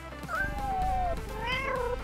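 Cats give a few drawn-out, rising and falling meows, fairly close, over a low background hum.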